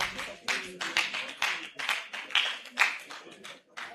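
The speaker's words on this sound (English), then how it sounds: "Can we give ourselves a round of applause?" Scattered audience clapping at the opening ceremony of a pharmacists' scientific conference in Nigeria, a moderate burst of hand claps that swells and fades over a few seconds, with some speech-like murmur mixed in.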